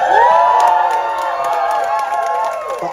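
A concert crowd at The Mango Park, at a live show, shouts and cheers loudly. The voices form a sustained, whooping roar with high shrieks that swell and then ease off slightly.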